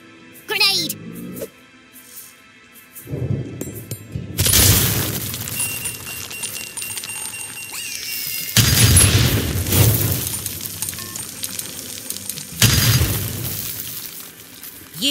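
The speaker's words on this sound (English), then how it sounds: "Grenade!" Grenade blasts in the Worms W.M.D game, several heavy booming bursts with crumbly, shattering debris noise, loud and close, separated by quieter gaps with cartoon voices and game effects.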